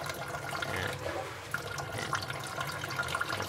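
Water runs and splashes over an HTC Desire EYE phone, a steady close-up trickle and gush with brief splashy bursts, fairly quiet with no talking.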